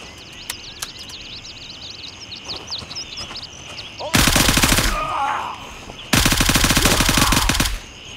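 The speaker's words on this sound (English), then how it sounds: "I can't believe they were shooting at me." Two long bursts of rapid automatic fire from enemies in Gray Zone Warfare rattle loud and close, each lasting over a second, over faint birdsong and ambient chirps, with a person talking.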